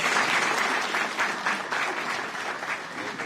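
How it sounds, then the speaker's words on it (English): Sustained audience applause after a singer's performance at an award ceremony, a dense continuous wash of many hands clapping, steady and moderately loud throughout, with no speech over it. "Let's give another round of applause."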